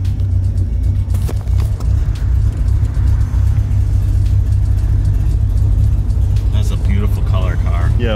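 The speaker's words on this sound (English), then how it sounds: "we're just gonna rip it past the whole thing in a 911" A Porsche 911 on a road trip drives with a loud, steady low engine rumble filling the whole stretch, with people talking over it near the end.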